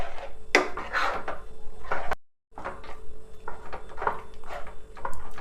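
Rice halwa being stirred in a pot over a low flame: repeated scraping, knocking strokes of a spoon against the pot in uneven bursts, with a short pause partway through.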